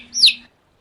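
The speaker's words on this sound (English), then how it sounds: "At last the great egg broke, and the latest bird cried" A newly hatched duckling cries once as it leaves its shell, a single short high chirp rising and falling, close and clear against a faint low hum, then silence.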